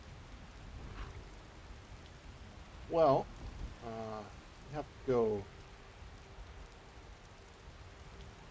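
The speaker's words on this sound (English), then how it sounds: "And, of course, it's raining again." Steady rain patters throughout at a moderate level in the modded game The Elder Scrolls V: Skyrim, with brief bursts of speech breaking in around the middle.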